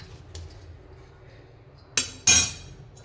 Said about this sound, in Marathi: आता ह्या आपण कटिंग करून घ्यायच्या आहे.